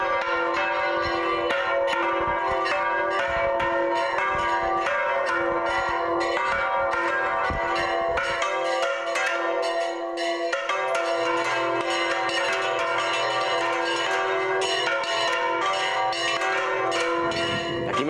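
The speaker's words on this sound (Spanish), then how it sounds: "Tocando ahora volteando las campanas de Torrecilla en nuestro honor" Church bells of Torrecilla del Monte, Spain, swung full circle, ring continuously and loudly, a dense overlapping clangor with a steady, rolling rhythm and no voices.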